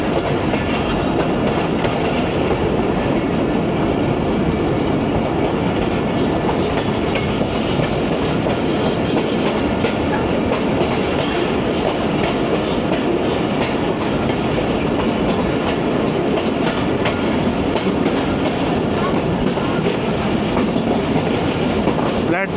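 A passenger train rumbles loudly and continuously through a station near Multan Cantt, wheels clattering in a steady clickety-clack rhythm close by for the whole stretch.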